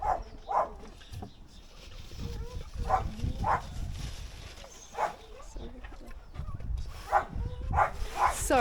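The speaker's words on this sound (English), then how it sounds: "we've got the dogs barking in the background" Several dogs barking in the background during work on a 2010 Audi, short repeated barks scattered through the clip under a steady low hum.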